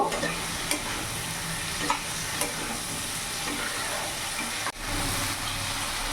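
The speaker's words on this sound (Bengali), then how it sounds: "এবার এরই মধ্যে আমি কেটে রাখা ভেজে রাখা আলুগুলো দিয়ে দেবো। ভালো করে মিশিয়ে নেব।" Fried potato pieces tumble into a pan of Katla fish-head muri ghonto and get stirred through, a steady sizzle with scraping spoon strokes close by and a sharp knock near the end.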